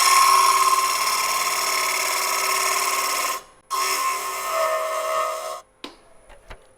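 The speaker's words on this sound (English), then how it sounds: "A little shear scrape here." A wood lathe shear-scrapes the inside of a cored bowl blank, giving a steady, close whirring scrape that runs for several seconds, stops briefly, resumes, then cuts off.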